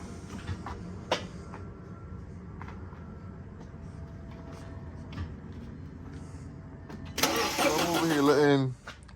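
A car engine cranks and catches on its first start after repair following a fuel leak, a loud grinding rise near the end after a quiet stretch of faint clicks and low background noise, with people talking nearby.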